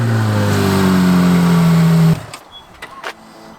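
A military green Ferrari 458 Italia engine starts with a strong, rising rev held loud and close for about two seconds, then cuts off abruptly, leaving a few faint clicks and knocks.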